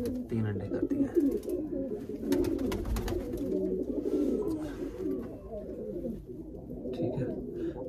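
Pigeons coo steadily in a loft, a soft, low rolling murmur running throughout alongside occasional rustles, with someone talking over them.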